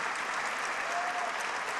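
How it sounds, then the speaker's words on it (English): A school-event audience applauding for teachers at a state address, dense steady clapping from a large crowd, sustained and even for the whole short stretch, with no voice over it. "give them a round of applause"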